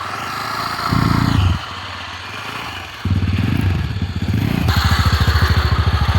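A scooter idles, revs as it is turned, then pulls away with a loud, close, steadily pulsing engine note.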